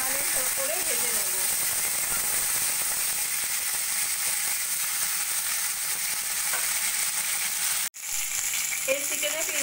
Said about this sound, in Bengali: একবারে আমি 6 পিস চিকেন দিয়ে দিয়েছি, চিকেনগুলোকে হালকা সোনালি করে ভেজে নেব।